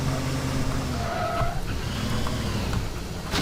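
A car in the video game Teardown skids under the handbrake, giving a sustained engine drone with a rising screech of tires, loud and close throughout and with no talk.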